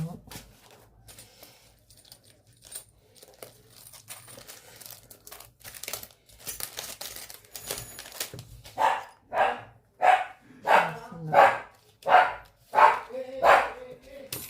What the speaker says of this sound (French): Oh, le chien, le chien.